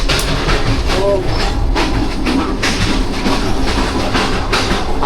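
Rawal Express passenger train running through dense fog at night: a loud, continuous rumble with a rhythmic clickety-clack of wheels over rail joints, heard close by, with a brief voice nearby.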